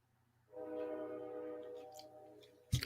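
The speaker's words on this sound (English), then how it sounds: "What is with the trains tonight?" Train horn heard from outside through an open window at night, a sustained tonal blast that swells and holds for about two seconds before fading, with a sharp knock at the end.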